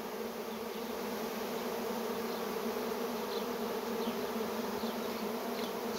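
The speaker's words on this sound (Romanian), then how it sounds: "să vedeți cum vine un roi și se bagă singur în ladă" A honey bee swarm pours into a hive box, a dense steady buzzing hum from countless bees, close and continuous with no voices.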